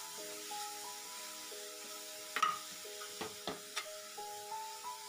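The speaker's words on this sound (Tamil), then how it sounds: "கொஞ்சம் ஃப்ரை பண்ணணும், அந்த பச்சை வாசனை போற வரைக்கும் ஃப்ரை பண்ணணும்." Vegetables for veg momos filling frying and being stirred in a pan, a soft sizzle with a few scraping stirs, close and moderately quiet, no talking.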